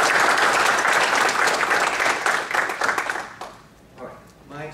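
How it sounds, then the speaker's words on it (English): An audience at an academic symposium at Purdue gives a ceremonial round of applause, dense and loud, that fades out after about three seconds into room quiet with a voice starting up. "one ceremonial round of applause here for Fanggang and for Purdue"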